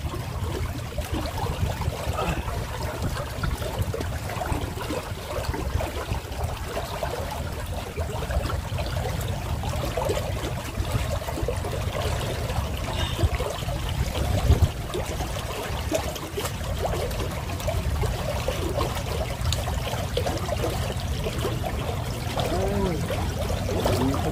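Water running at low pressure, trickling and pouring in a steady, continuous stream for the whole stretch, fairly close and without any talk over it.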